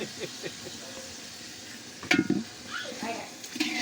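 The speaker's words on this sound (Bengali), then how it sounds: "প্রথমে আমরা চিকেন ভেজে নিয়েছি তারপরে পেঁয়াজ আর কাঁচামরিচ দিয়ে দিয়েছি" Chicken, onion and green chili stir-fry in a pan over a clay stove in a village kitchen, a steady close sizzle with scraping stirs and metallic clinks of a utensil against the pan.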